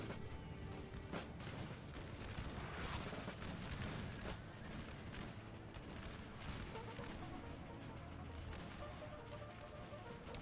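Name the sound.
cannons firing in the video game Napoleon Total War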